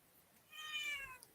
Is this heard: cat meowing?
yes